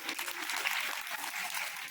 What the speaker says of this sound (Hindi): जोर से ताली बजाइए बच्चों